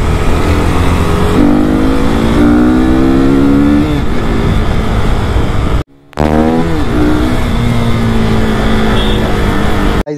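A KTM RC 390 sport motorcycle accelerates hard while being ridden, its engine note climbing through rising revs with a brief cut near the middle before pulling loudly again, close and dominant with steady wind roar.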